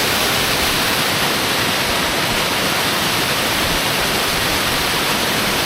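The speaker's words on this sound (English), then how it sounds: "it still looks lovely, this waterfall, doesn't it?" A brown, swollen waterfall roars close by along a hillside walk, a dense, loud, unbroken rush of falling water filling the whole stretch without any voices.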